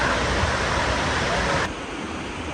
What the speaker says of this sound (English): It's like a very green area here, but oh man, this is some powerful water.